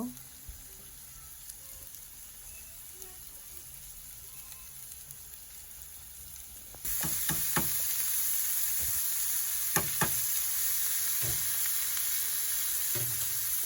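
Chopped Japanese radish going into a frying pan: a faint low sizzle, then a sudden jump to a loud steady hiss as the radish lands, with scattered clinks and scrapes of stirring, no voices.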